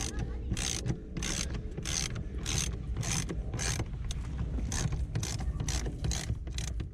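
A ratchet clicks in quick repeated bursts as it loosens the steering wheel bolt on a Jeep, close and steady, with no talk over it.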